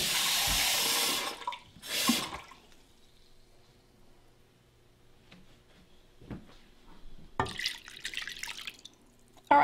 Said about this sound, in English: And you're also going to add a cup of water.